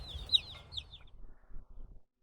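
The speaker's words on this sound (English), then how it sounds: "we've got 45 chickens from these dual-purpose chickens in each one of our other two brooders" Young dual-purpose chickens, North Star Bresse and New Hampshire, in a brooder give a quick run of high chirping peeps at close range, followed by soft low shuffling before falling silent.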